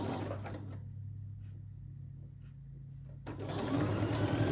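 A sewing machine stitches quilt block pieces with a steady mechanical whir and hum, briefly slowing to a softer idle in the middle before running loudly again, close by and with no talk.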